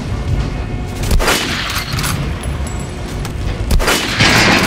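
Gunfire hits an armored training dummy in the game Metro Last Light, a few loud sharp shots with booming decay spread across the moment, over a dense, steady game background without talk.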